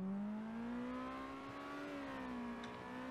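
A game car engine in an Unreal Engine Chaos Vehicle setup revs with a steady, smoothly climbing whine, then eases off slightly and settles, heard alone and fairly quiet throughout.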